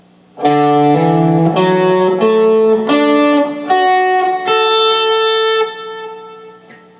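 Electric guitar plays a slow ascending closed-shape major add2 or add4 arpeggio, notes ringing and stacking into a sustained chord with a light effects shimmer, alone and close.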